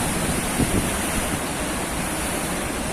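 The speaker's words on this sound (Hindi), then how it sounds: "ये देखिए गाइस कैसा है, कितना स्पीड में आ रहा है पानी।" Water rushing at high speed through the Hadagarh dam in Odisha, a steady, loud broadband roar with constant surge and no pauses, dominating the whole stretch.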